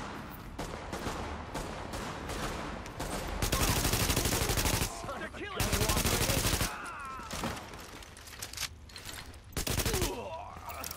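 Dense, loud bursts of automatic gunfire and overlapping shots from Tom Clancy's The Division, arriving in heavy sustained volleys with brief gaps, while a voice speaks at times underneath.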